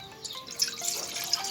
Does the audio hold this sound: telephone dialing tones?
no